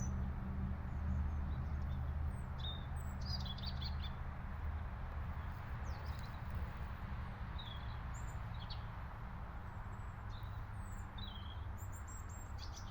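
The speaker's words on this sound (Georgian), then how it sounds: "ჩიტების ხმა გესმით?" Small birds chirp in a tree outdoors, scattered short tweets repeating faintly at a distance above a steady low rumble of background noise, with no voices.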